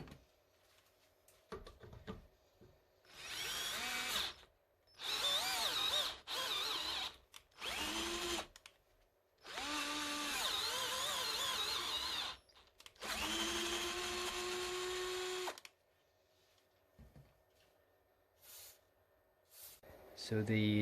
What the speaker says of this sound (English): let's try and do some tapping with the screwdriver